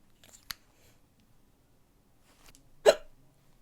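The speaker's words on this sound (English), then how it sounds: "I've got hiccups." Two sharp, short hiccups sound close up in a quiet room, about two seconds apart, with the second one louder.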